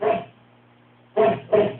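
A dog barks in the background: one short bark, a pause of nearly a second, then two quick barks in succession, muffled and moderately faint.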